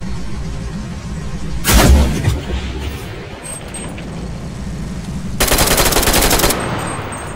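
Two bursts of gunfire from the battle royale game CRSED: a short rattle of shots early, then a longer, even rapid-fire burst lasting about a second near the end.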